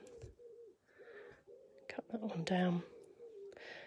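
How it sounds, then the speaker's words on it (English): Low, soft cooing of pigeons outside drifts in faintly beneath close indoor talk during a paper-crafting session, with rustles and clicks in between. "That's the pigeons outside."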